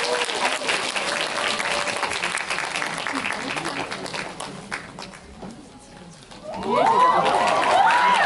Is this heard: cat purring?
no